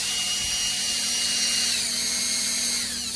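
A $10 paint stirrer driven by a power drill whirls hot homebrew wort, giving a continuous loud high-pitched whine with steady motor hum, close and unbroken throughout.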